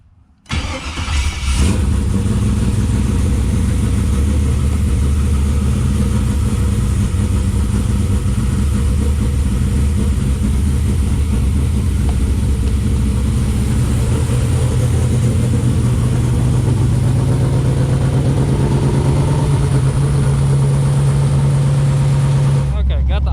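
A 3rd Gen Camaro fitted with a Hooker dual exhaust rumbles to life and settles into a steady, loud idle that runs unbroken for the rest of the span.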